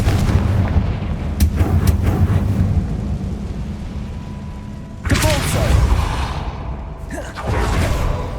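Confringo blasting spell exploding in the Hogwarts Legacy video game, loud booming blasts with rumbling debris and whooshes over a dense game soundscape, one major impact midway followed by another burst.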